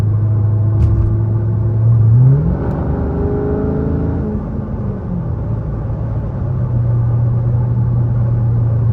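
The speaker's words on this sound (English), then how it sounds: "oh, I heard that downshift" A loud V8 muscle car, likely a Dodge Charger SRT8, downshifts while driving with the engine rumbling close by, its revs rising and then falling before it settles into a steady drone.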